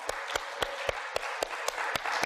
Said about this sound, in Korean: 우리 하나님께 영광의 박수 한번 올려드립시다.